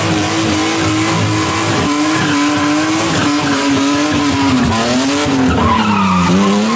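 A BMW E36 on stock manifolds and stock cats with no muffler roars loud and raspy nearby, its engine note rising and falling through revs alongside tire squeal.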